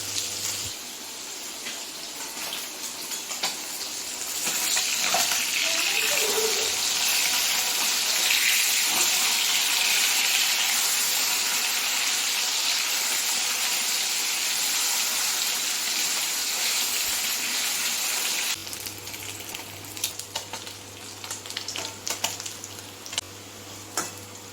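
Bata fish frying in a pan hisses loudly and steadily for a long stretch, with softer crackling before and after.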